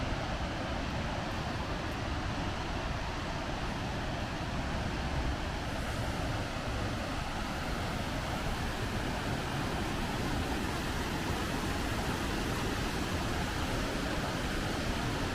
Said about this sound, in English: So it's pretty rainy, but this waterfall is magnificent.